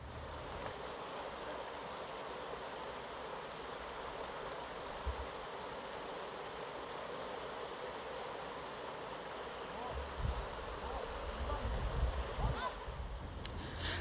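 A river current flowing at a crossing point near the Lofoï falls, a steady broad rushing wash with faint low rumbles and wind buffets growing louder near the end.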